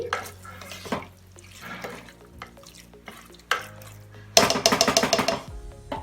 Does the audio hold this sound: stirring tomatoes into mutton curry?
yes